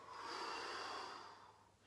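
A long, soft exhale of breath during a squat exercise in a cardiac rehabilitation workout, a single airy breath that swells and then fades, quiet and close.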